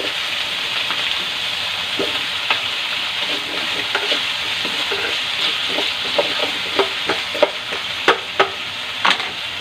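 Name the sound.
potatoes and carrots added to sizzling kaldereta pan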